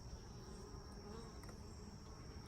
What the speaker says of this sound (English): There is one worker bee